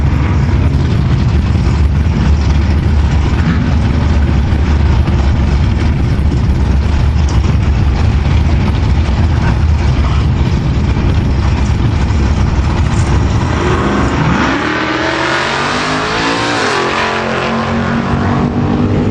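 Drag racing between a 1989 Ford Mustang and a 1989 Chevy Camaro IROC, a loud sustained roar of high-revving engines that thins out and drops in pitch near the end as the cars pull away.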